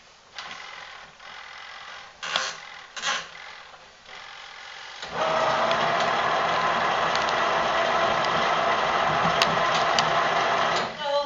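A Wonder Washer portable washing machine felting fabric on its standard program, a few mechanical clicks and thumps before a steady loud whirring hum starts and runs continuously, close by.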